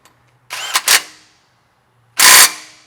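A power tool tightens the bottom suspension bolt, a 17, on a Toyota 4Runner in two loud close bursts, a short stuttering pair and then a longer solid whir, with silence between.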